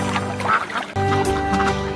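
Ducks quack in short, nasal calls over a bright children's music track, near a rice paddy where ducks are let out.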